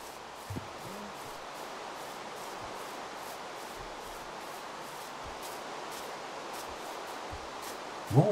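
Steady rain hissing in the Minecraft video game, a constant even wash of noise that carries on throughout with a faint thump near the end and no voices.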